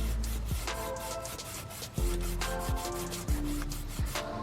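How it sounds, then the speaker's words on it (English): A fine scuff pad scrubs the valve cover sealing surface on a 6.0L Powerstroke engine in a Ford F250/F350, making quick, close, repeated rubbing strokes in an uneven rhythm, fairly quiet, with no talking. "I'm just gonna use a fine scuff pad real quick and do that"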